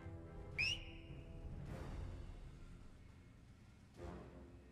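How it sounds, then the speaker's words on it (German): A short, sharp whistle in the video game Iron Harvest, one quick rising tone over a low ambient rumble, followed by a couple of soft bursts of noise, with no talking. "Das war ein exzellenter Pfiff."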